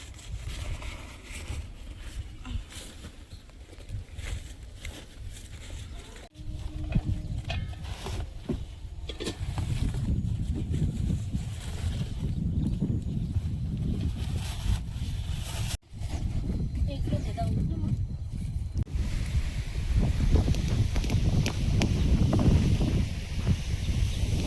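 Strong gusting wind on a rainy day outdoors, a loud rushing roar buffeting the microphone and swelling stronger in the later part, with rustling throughout.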